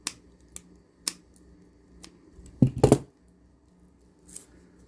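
Scissors snip kandi choker string: a few sharp, close clicks spaced out, then a louder cluster of crisp snipping cuts near the middle, and one last soft click, with no talk.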